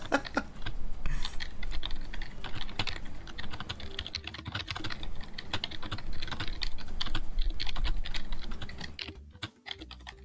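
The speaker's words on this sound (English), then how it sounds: "Keyboard ASMR." Rapid, continuous clatter of computer keyboard typing, close and loud for the whole stretch with only a brief pause near the end; no voices over it.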